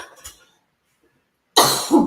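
A single loud, close cough bursts out after a short stretch of silence, following faint talk at the start; a podcast host coughs from an itchy throat.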